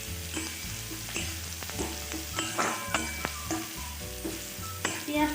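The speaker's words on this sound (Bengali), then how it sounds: "এতে আমি পেঁয়াজ কুচিগুলো দিয়ে দেবো। একে একে ভেজিটেবলসগুলো ভেজে নেব।" Chopped onions hit hot oil mixed with about two tablespoons of ghee, crackling loudly and sizzling close by, with repeated stirring strokes and spatula scrapes against the pan.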